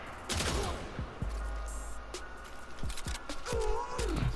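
Tiberon Prime rifle bursts in Warframe crack out as several short, sharp clusters of shots spread across the moment, mixed with game effects and a brief voice-like tone near the end.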